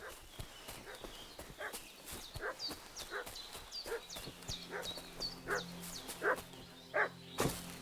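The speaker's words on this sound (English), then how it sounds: "What's that dog making such a fuss about?" Dog barking in Kingdom Come: Deliverance II, repeated sharp barks at irregular intervals mixed with horse hoof clip-clops and a faint voice, moderately distant and quiet.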